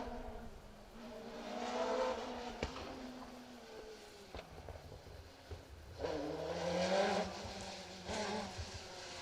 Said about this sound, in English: Wayne Jones and Rhys Jones in car 26, another Darien T90